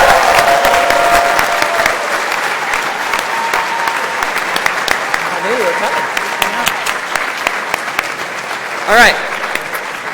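Steady, loud applause from a large crowd at a university graduation ceremony fills the whole stretch, with a brief spoken remark over the clapping.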